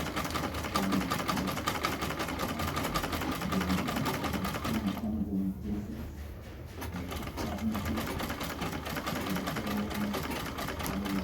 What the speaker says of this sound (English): Just sew all the way down.